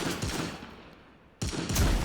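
Rapid bursts of gunfire in the shooter game Anarchy Legends Online, with two loud volleys separated by a short quiet gap.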